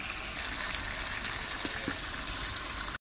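Water is poured into a pan of potato and taro curry being made for a katla fish dish, giving a steady, fairly loud rushing hiss that runs unbroken for about three seconds before stopping abruptly.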